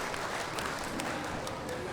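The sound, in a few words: applause for farmers at Green TV Kisan Chaupal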